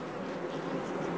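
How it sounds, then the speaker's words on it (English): Bees at an open beehive fitted with a humidity and temperature sensor make a brief, steady buzzing hum, fairly close and moderately loud, with no talk. "Covered in bees."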